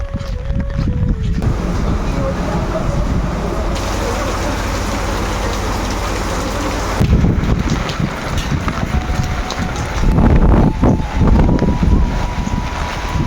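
Steady storm rain and gusting wind at Kakdwip roar over the microphone, with heavier buffeting surges near the end; no one speaks.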